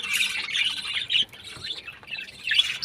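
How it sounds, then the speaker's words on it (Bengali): Many colony birds chirp and tweet busily together at a morning feeding, a dense, continuous chatter with bright overlapping calls and a few sharper squawks, close by. "এই যে আমাদের পাখিগুলো"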